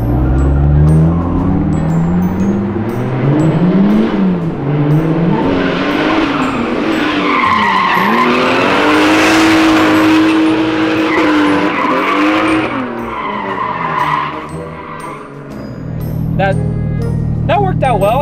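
A car engine revs hard while tires squeal and skid loudly over a long stretch, the screech rising and falling as the vehicle slides.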